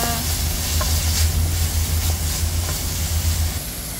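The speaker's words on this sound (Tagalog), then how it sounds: "habang binabrown natin siya sabay na natin ang ating ginger" Ginger browning in a pan for pinakbet gives a steady, loud sizzle with a low rumbling hum underneath and a few faint clinks of stirring, no voices.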